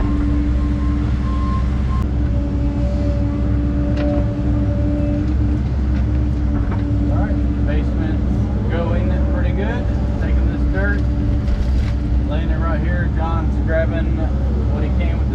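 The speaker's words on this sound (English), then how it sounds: "Grabbing what he can with the skid steer and taking it over there to where the driveway is going" A skid steer works on a rocky basement dig, moving and dumping dirt for a driveway with a loud, steady low engine rumble and scraping, clanking bursts, while someone talks over it.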